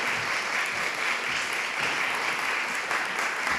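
Applause from an audience at a public forum of a pond task force, a steady, dense wash of clapping that holds evenly throughout with no voices.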